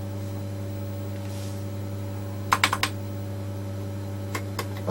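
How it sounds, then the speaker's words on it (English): Computer keyboard keys pressed on an old computer setup: a quick cluster of four or five sharp clicks midway, then a few more isolated taps, all sitting over a steady loud electrical hum with no voices. "pressing various different keys you can change the speed that it rotates at"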